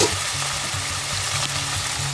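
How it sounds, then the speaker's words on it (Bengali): Chicken pieces and onion frying together in a pan, a dense, close sizzle with a continuous hiss and a low rhythmic scraping of stirring underneath, no voices. "পেঁয়াজটা মাংসটা ভালো করে মিশিয়ে নেবো নিয়ে ভালো করে ফ্রাই করতে হবে দু থেকে তিন মিনিট"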